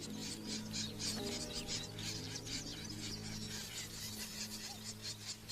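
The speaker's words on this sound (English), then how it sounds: "They've got this harsh, scolding noise like this." Reed warblers mobbing a cuckoo give a harsh, scolding chatter, repeated rasping bursts over steady background sound at moderate level.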